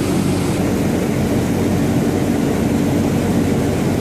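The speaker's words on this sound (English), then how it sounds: "we have this old gearbox right here. And we have this big motor here." A 40 horsepower motor drives an old Marley cooling tower gearbox, giving a loud, steady, broadband drone with a low mechanical hum that stays constant and unbroken, with no voices over it.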